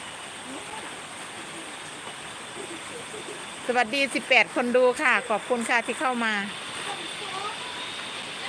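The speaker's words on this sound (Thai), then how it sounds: "ฝนตกแรงมาก ตกสองสามวันสี่วันติดกันแล้ว" Heavy rain pours steadily outside a quiet row of shops on the fourth straight day of downpour, a constant dense hiss running through the whole stretch while someone talks over it partway through.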